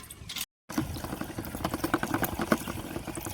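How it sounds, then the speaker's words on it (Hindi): Water pours into a farm sprayer tank early on a summer morning in a vegetable field. It is a steady, busy splashing rush with a brief gap near the start, then continuous pouring at moderate loudness. "मशीन में पानी डाला जा रहा है।"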